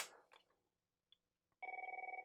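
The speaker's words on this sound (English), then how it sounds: "And it's going to keep ringing at me." A Merlin business phone terminal rings nearby with a short burst of rapid warbling electronic trills, preceded by a brief soft beep and faint clicks.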